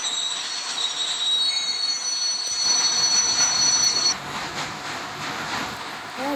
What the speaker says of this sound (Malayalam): ഡ്രൈവറിനെന്തോ മിസ്റ്റേക്ക് പറ്റിയതുകൊണ്ട് ട്രെയിൻ ബാക്കോട്ടേക്ക് എടുക്കുന്നു